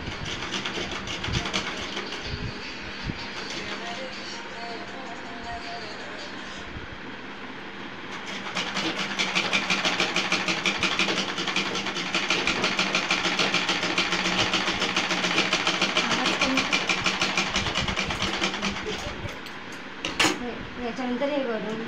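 A sewing machine stitches a cloth bag with a fast, continuous mechanical clatter that starts lighter and grows louder and denser partway through, broken by a few short pauses and a sharp click near the end.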